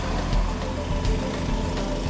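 A 5000W DY-6020/PRO petrol power generator runs steadily close up, a loud, continuous engine drone with a rough low rumble and no speech.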